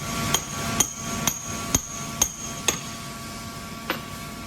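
A hammer taps a bearing into place on an air compressor air end, six evenly spaced ringing metallic strikes about half a second apart, then a pause and one more blow, close and clear with no talk.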